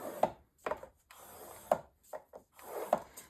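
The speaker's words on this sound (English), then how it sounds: "I'm going to run this down my scoreboard every 1/2 inch across the entire piece" Paper being scored on a scoring board at half-inch intervals for a mini album cover, heard as a series of short, distinct scraping strokes with brief pauses between them, close and fairly quiet, with no talking.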